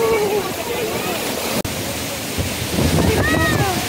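Water pours down a waterfall in Pelling, a loud, continuous rushing roar with wind buffeting the microphone, while people talk over it.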